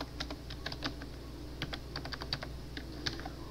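Steady typing of programming code on a computer keyboard, a close run of crisp, irregular key clicks over a low background hum with no talking.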